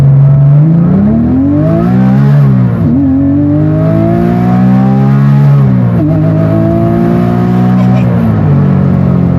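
A Porsche 911 997 with the 3.8 liter Mezger engine revs hard and close, rising and falling in pitch through several upshifts, screaming toward a high redline as the car accelerates.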